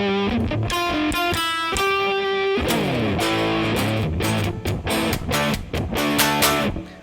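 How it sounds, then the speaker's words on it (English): Electric guitar played through a muff-style fuzz distortion model on a NUX MG-300 modeling processor, loud and saturated with sustained chords and picked notes ringing throughout, no talk. "let's maybe look at something crazy like the muff distortion. This one obviously is more of a fuzz type sound."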